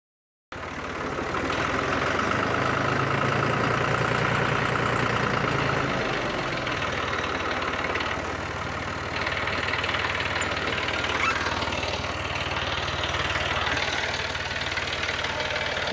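A tractor engine idles steadily and close by in a flood-damaged shop, a continuous, even mechanical rumble lasting the whole stretch with no voices.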